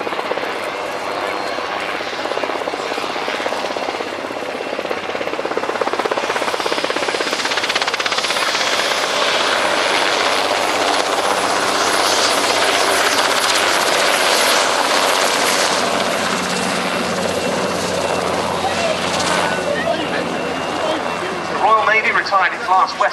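A Westland Wessex HU5 helicopter makes a flypast at Yeovilton, its rotor and engine noise swelling to a loud, sustained roar before easing off slightly toward the end, with voices heard beneath it.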